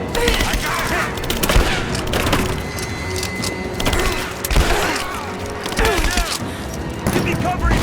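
Gunfire rattles in the Rise of the Tomb Raider video game, with repeated bursts of shots and sharp cracks layered over a dense, busy battle din that runs continuously throughout.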